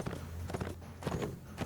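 Horse hooves walk up a shallow hillside in Mount & Blade: Warband, a basic riding horse giving a steady series of soft clip-clop steps at close range with no talk.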